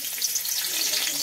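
Chillies dropped into a hot frying pan for chilli chicken: a brief, close, steady sizzling hiss of oil.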